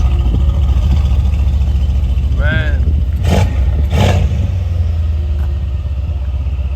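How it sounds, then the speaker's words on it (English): A tuned stage 2 Mercedes C63 pulls in nearby with a steady low engine rumble throughout, while someone talks over it in a few short bursts. "he just pulling in right now. I just heard his car."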